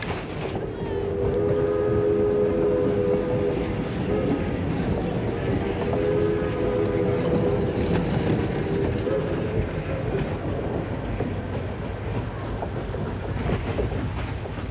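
A historic train on the Strasburg Rail Road rumbles steadily along the tracks with a low, continuous roar, and a whistle-like tone sounds twice early on, near and loud throughout.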